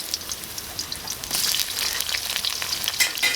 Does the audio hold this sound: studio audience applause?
no